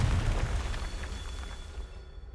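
Confringo spell explosion in a wizard video game on ultra settings: a loud, sustained rumbling blast with heavy low-end boom that slowly decays across the clip, alone without voices.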